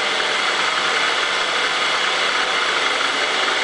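A Bridgeport milling machine cuts the face of a valve, giving a steady, dense, broadband machining whir with a hissing grind that runs without letup, close and fairly loud, with no speech over it.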